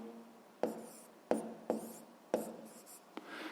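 A pen or pencil writes out a physics problem's values on paper, giving five or six quiet scratchy strokes in an uneven rhythm, each with a brief sharp onset, close and soft with no speech.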